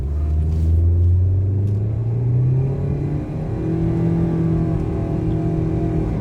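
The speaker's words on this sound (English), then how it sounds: "So let's check the pickup of the vehicle." A Toyota Allion/Premio accelerating hard from a standstill during a pickup test, its engine rising steadily in pitch through two gear changes, heard close from inside the car.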